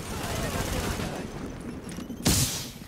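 Gunfire in a shootout in the video game The Division on PS4, a rapid clattering fusillade mixed into dense background noise, with a sharper burst near the end and a voice talking over it.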